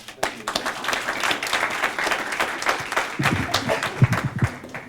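Audience applause at a Muslim Day gathering at the Capitol, a wash of clapping that runs throughout, swelling slightly near the end with some voices mixed in.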